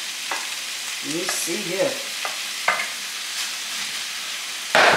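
Cooked rice frying in a pan as it is stirred, a steady sizzle broken by sharp scraping strokes of the utensil, with a short burst of clatter at the end. Someone speaks briefly, and a voice hums in the background.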